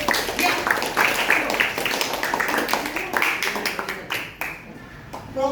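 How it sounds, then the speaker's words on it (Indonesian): A classroom of students claps for group 6, a dense patter of many hands at close range that fades toward the end, with voices mixed in underneath. "Oke, tepuk tangan untuk kelompok 6."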